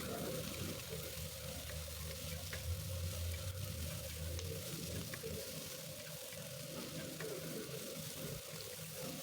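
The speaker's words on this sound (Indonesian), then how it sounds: "Kita goreng semuanya sampai wangi," Garlic, shallots, chili and tomato fry in oil in a pan for sambal, a faint steady sizzle with a low hum beneath, no one speaking.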